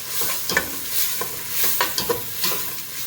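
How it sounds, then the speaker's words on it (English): Cream of mushroom soup with onion, pimentos and garlic cooks in a pot for a Trini macaroni pie, giving a steady soft sizzle with several scraping stir strokes and light clinks at an irregular rhythm, close and without any voices. "So you're just going to let that saute in there"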